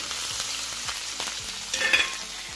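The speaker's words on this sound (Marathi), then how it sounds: "आता ह्याच तेलामध्ये आपण थोडी खडे मसाले वगैरे, अद्रक लसणचा पेस्ट आणि थोडीशी हिरवी मिरची टाकून घेऊया" Whole spices with ginger-garlic paste and a green chili sizzle and crackle in hot oil, a soft continuous fry with faint stirring scrapes and a brief louder spit near the end.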